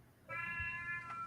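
A single drawn-out cat meow, close and clear, rising out of a quiet background and holding steady for about a second.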